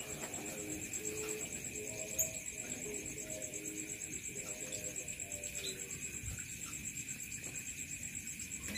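Soft, repeated low cooing from a zebra dove, steady and rhythmic, with a constant high insect-like whine and faint background noise throughout.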